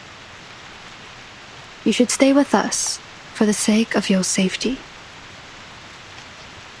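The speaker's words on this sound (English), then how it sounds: "The rain is getting heavier." Steady rain falls in the video game Reverse 1999 at a rainy Green Lake campsite, a constant hiss of moderate rainfall running throughout while a voice speaks over it in two short phrases.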